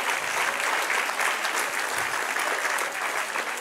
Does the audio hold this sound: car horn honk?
no